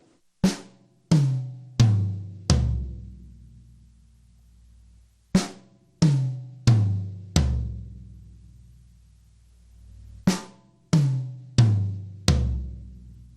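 Three quick drum fills separated by pauses, each a run of four evenly spaced hits descending in pitch from snare to toms, ringing briefly.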